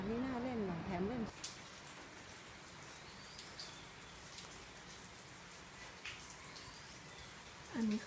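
Rain falls in front of a house at Hua Hin, a soft, steady wash of patter with occasional faint chirps and a brief melodic tone at the start and end, fairly quiet throughout.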